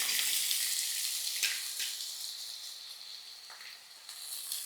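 Potatoes frying in oil for a drumstick-flower vegetable curry, a soft continuous hiss of oil with a few faint clatters, fairly quiet and unaccompanied by talk.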